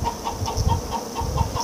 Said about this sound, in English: There's a chicken having an egg.